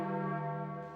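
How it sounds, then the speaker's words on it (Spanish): A deep church bell of San Andrés tolls once, a single resonant strike with a sustained, humming ring that slowly fades, heard alone. "los toques graves de la campana de San Andrés anunciaron al mundo"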